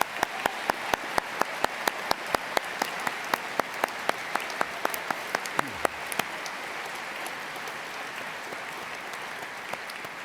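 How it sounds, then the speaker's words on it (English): Graduation ceremony audience applause for a science and technology faculty: a crowd claps in a large hall while one nearby clapper beats out sharp, regular claps that thin out after a few seconds, leaving a softer fading spatter. "join me in thanking them with another huge round of applause"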